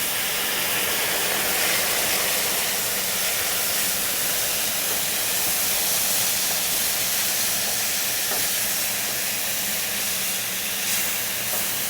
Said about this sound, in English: We're going to deglaze our pan with some wine.